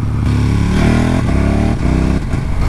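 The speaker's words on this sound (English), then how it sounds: "the clutchless upshifting and downshifting is nice as well" A 2017 KTM 1290 Super Duke R motorcycle engine roars loudly and steadily up close while riding, with rises and dips in revs as it shifts gears without the clutch.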